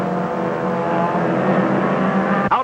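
Race cars roar along a track straightaway into the last lap, a loud sustained engine drone with a sharp burst near the end.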